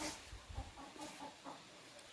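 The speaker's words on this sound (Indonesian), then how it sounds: "ada suara ayam" A chicken clucks faintly in the background of a home kitchen, several short soft clucks at uneven intervals against a quiet room.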